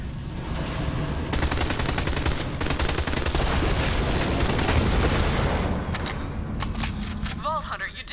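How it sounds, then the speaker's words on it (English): Dense, sustained gunfire in Borderlands 3, a loud continuous fusillade of rapid shots and blasts filling most of the stretch, tapering into scattered bursts and electronic chirps near the end. "Shoot it, Vault Hunter!"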